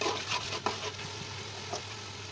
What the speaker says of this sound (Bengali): তো এখন এগুলোকে আমি কষিয়ে নেব,